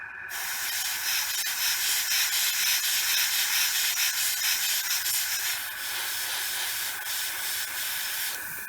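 An airbrush set to low pressure sprays paint onto a Tumbler Batmobile model, making a steady, close hiss that dips briefly as the trigger eases, then resumes.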